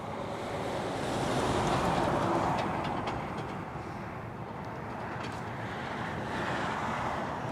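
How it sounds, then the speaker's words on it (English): Strong wind blowing outdoors beside Toronto Pearson airport, a steady loud roar of gusts buffeting the microphone, swelling and easing throughout with no speech. "It is so windy, by the way."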